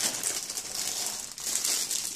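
Plastic bag holding a headphone carrying case crinkles steadily at close range during an unboxing of Bose QuietComfort QC25 headphones, a soft continuous rustle with no voices.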